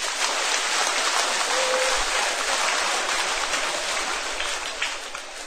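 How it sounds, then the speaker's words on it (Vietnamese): A hall full of teenage listeners at a talk claps, producing a dense, continuous rain-like patter of applause that stays even and fairly loud throughout. "Hãy dành một tràng vỗ tay thật lớn."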